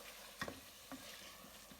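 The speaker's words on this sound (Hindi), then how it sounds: "मैं इसको भून रही हूँ, देखिए इसका ऑयल निकल आया है।" Aloo gosht meat frying in released oil in a pot, a soft continuous sizzle with two or three brief stirring scrapes, no talking.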